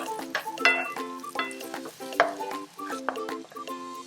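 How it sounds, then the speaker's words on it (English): Mushrooms seasoned with salt and pepper sizzle in a pan, with close, repeated scraping and stirring strokes from a utensil against the pan throughout. "Just continue cooking the mushrooms until they are soft."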